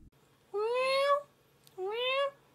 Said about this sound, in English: Hungry cat on the set.